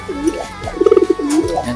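Pigeon cooing close by in a short sequence of soft throaty coos with a brief fluttering trill in the middle.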